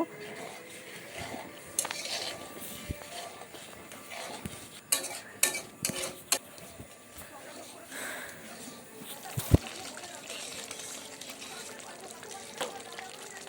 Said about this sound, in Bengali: সমস্ত কিছু মিশিয়ে নিয়ে মশলা খুব ভালোভাবে কষাতে থাকবো